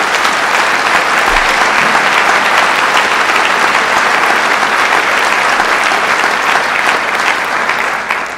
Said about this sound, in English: give them a round of applause, please, one more time